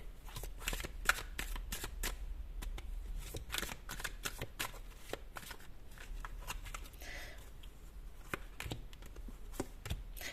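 Tarot cards are handled and rearranged, with soft riffling, slapping and sliding card sounds in quick irregular bursts, close and quiet, with no talk.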